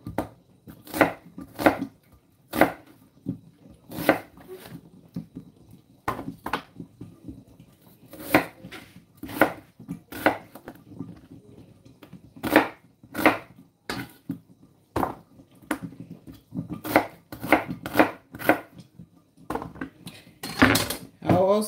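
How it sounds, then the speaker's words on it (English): An onion cut with a knife on a board, a long run of sharp, close chops in uneven bursts with short pauses between them. "So I'll go ahead and cut my onion."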